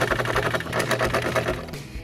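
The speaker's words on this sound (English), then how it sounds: "I'm just sewing at the 5/8 inch seam allowance, which is this mark right here on my sewing machine" Sewing machine stitching a neckline facing to collar pieces at a 5/8 inch seam allowance, a rapid even mechanical chatter running continuously, close and clear, stopping just before the end.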